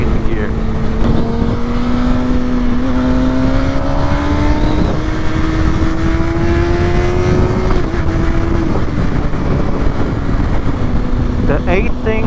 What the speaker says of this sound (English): The eighth thing I like about this motorcycle, obviously, is the noise.